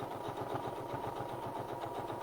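A home sewing machine runs steadily, stitching two lines along a top's neckline seam, with a continuous close mechanical whir and rapid rhythmic needle pulses and no talking.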